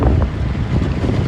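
Heavy monsoon rain and gusting wind pound a phone microphone outdoors, a loud continuous roar of rumbling buffeting without pauses.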